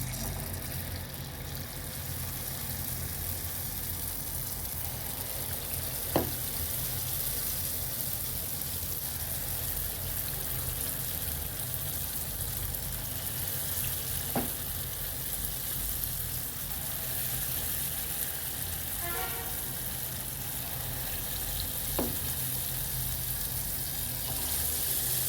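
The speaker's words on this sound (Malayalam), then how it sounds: "അപ്പോൾ ഇതാ വെളിച്ചെണ്ണ ചൂടായിട്ടുണ്ട് കേട്ടോ. അപ്പോൾ നമുക്കിത് ഓരോ തവി ഒഴിച്ചു കൊടുക്കാം" Unniyappam batter is ladled into hot coconut oil and fries with a continuous, moderately quiet sizzle. A few sharp taps of the ladle occur at spaced intervals, and no one talks.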